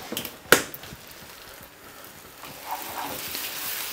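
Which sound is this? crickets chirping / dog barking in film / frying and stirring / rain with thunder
frying and stirring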